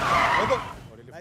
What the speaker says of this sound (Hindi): अरे रोको गाड़ी रोको।